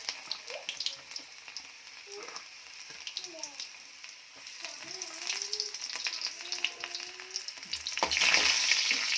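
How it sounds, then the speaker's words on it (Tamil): Garlic hits hot oil alongside mustard and fenugreek seeds, frying with a bright, crackling sizzle and scattered pops. A spoon scrapes and stirs the pan at intervals, and near the end a louder burst of sizzling rises. "கடுகு வெந்தயம் நல்லா பொரிஞ்சதுக்கு பிறகு வெள்ளைப்பூடு போடணும்"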